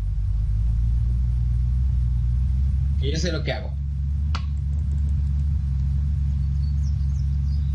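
Slow car engine in the video game Unturned, a steady low rumble throughout with a voice speaking over it and a brief sharp noise midway.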